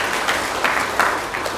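An audience claps for the mothers present at a religious talk, a brief patter of scattered hand claps with a few louder strikes standing out.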